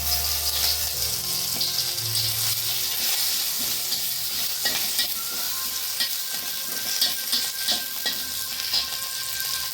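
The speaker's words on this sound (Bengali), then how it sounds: "দিয়ে দেবো একটু কারি পাতা" Curry leaves crackle in hot oil in a pan while a rice-stuffed paratha filling is being made. The sizzle is steady and dense, with scattered pops and crackles throughout and no talking.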